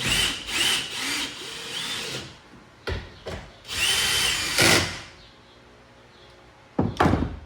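A power drill snugs bolts on a bed stiffener for a new Toyota Tacoma, with several short whirring bursts separated by pauses, a few clunks, and a final brief burst, loud and close.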